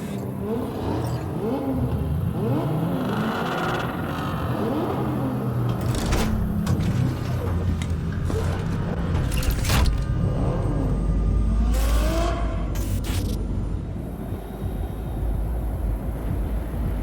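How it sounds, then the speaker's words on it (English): A convoy of cars revving their engines in the desert in the video game Cyberpunk 2077, a dense, continuous mechanical roar with rising and falling pitch sweeps and clunking transients throughout, loud and close. "Start your engines, folks."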